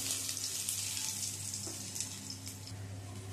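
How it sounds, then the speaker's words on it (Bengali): Crushed garlic sizzles in hot oil as a tempering for a traditional Bengali greens dish. The frying hiss stays even and close from start to end, with no talking. "রসুনটাও ভাজা ভাজা হয়ে গেছে,"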